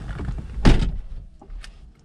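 A single solid thunk of a Mercedes AMG car door being shut, close and clear, followed by faint rustling and quiet background.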